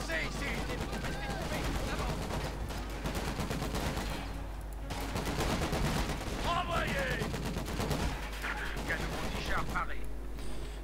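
Sustained gunfire on a combat position in Company of Heroes 2, with rifle and machine-gun bursts rattling continuously under a steady low rumble. A voice talks over the shooting.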